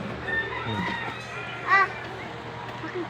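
A child imitates a rooster with one short crow-like call partway through, heard among other children's chatter and play noises in a home setting.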